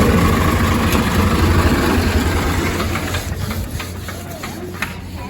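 Swaraj 855 tractor engine idling with a steady low rumble that stays loud and close throughout, easing slightly toward the end, while voices talk faintly over it.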